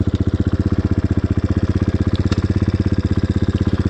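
A Beretta 250 motorcycle engine running steadily at a fast, even idle, its loud, low pulsing thump repeating without pause or change in speed.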